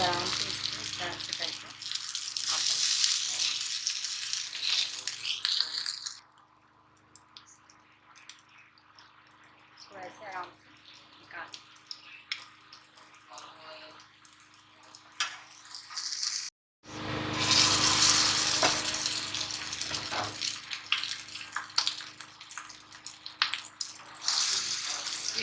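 Chapli kebabs shallow frying in a pan of oil give a steady broadband hiss and crackle that thins out midway, then returns loud and full after a brief pause, with talk faint beneath.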